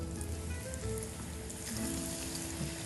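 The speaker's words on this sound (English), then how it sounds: "We're gonna put it in our hot saute pan." Lightly breaded veal sizzles in a hot sauté pan, a dense, steady crackle and hiss like rain on a surface that keeps going at an even level, close by and with no talk over it.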